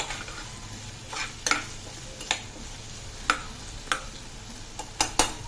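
Green chilies frying in a pan for khichdi give a low continuous sizzle, broken by sharp spatula taps and scrapes at irregular intervals, close by, with no voices.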